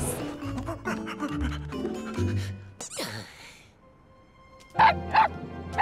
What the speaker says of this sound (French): Il aboie.